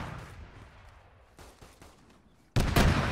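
Gunfire in the video game Arma 3 with a Warhammer 40K mod: scattered muffled distant shots, then a sudden loud close burst of heavy booming fire near the end.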